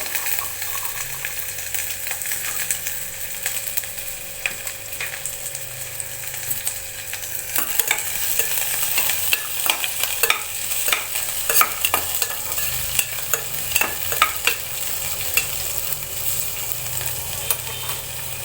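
Onion and garlic fry in a pan for a curry, giving a continuous sizzle with repeated scraping stirs that grow busier toward the end, close and fairly loud, with no speech.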